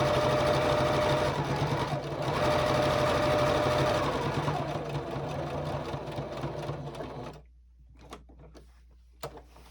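A sewing machine stitches binding onto a gingerbread star table topper, a steady close rapid mechanical hum and clatter for several seconds that stops abruptly, leaving faint clicks and handling noises.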